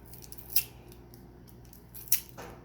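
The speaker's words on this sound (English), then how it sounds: "you're going to take your scissors and you're going to cut them into strips" Scissors snip twice through soft Starburst candies being cut into strips, two short crisp cuts about a second and a half apart over a quiet room.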